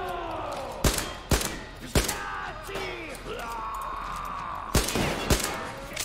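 Sharp, loud gunshots from the video game Metro: Exodus crack out in a spaced sequence, a few in the first two seconds and two more near the end, over a low rumbling game background.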